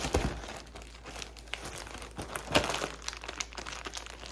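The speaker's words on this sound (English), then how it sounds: "I just put each half into a Ziploc bag" A plastic Ziploc bag crinkles and rustles as halves of a sourdough loaf are packed into it, with irregular close crackles and one sharper crunch partway through.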